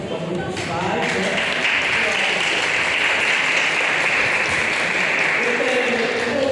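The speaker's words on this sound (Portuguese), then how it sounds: "Uma salva de palmas dos pais, né?" Church congregation applauding the fathers at a Sunday Father's Day service, a dense, even round of clapping that swells after the first second and holds steady with light background murmur.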